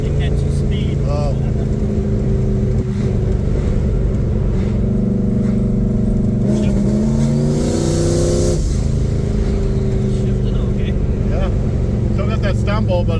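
A boosted Pontiac 400 V8 car droning loud from inside, engine note climbing as it accelerates with a stumble partway through, voices speaking over it.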